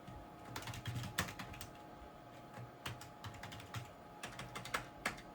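Quiet, close typing on a computer keyboard, with irregular bursts of soft key clicks and short pauses between words over several seconds, and no voices.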